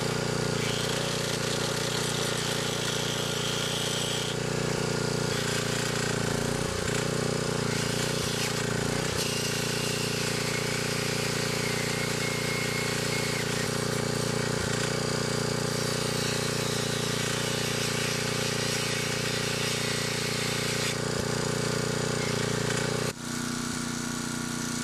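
A power saw runs at a steady, harsh, buzzing drone while cutting bolts on a 1967 Chevy C50 truck, continuing loudly and close for about 25 seconds with no talk.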